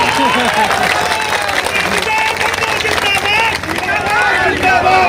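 A rally crowd claps and cheers steadily and loudly throughout, with a mix of voices and babble.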